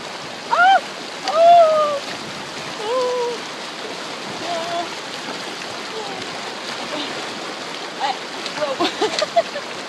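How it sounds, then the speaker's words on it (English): Rushing water of a river fills the background as someone wades a deep river crossing in Yosemite National Park, with splashing and a voice crying out over the steady flow. "Probably the sketchiest river crossing I've done so far. I'm actually kind of stuck, but I think I'm just going to go deep"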